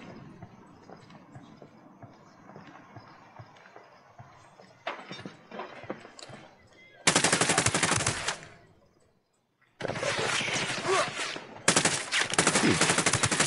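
Enemy gunfire in Ghost Recon Wildlands crackles in loud, dense automatic bursts, one long volley and then two more after a brief silence, following quieter scattered shots and ambient game noise.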